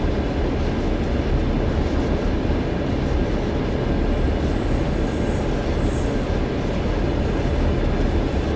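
A train runs in Train Sim World 2, giving a steady, loud rumble of rolling wheels and engine that holds evenly throughout, with no talk over it.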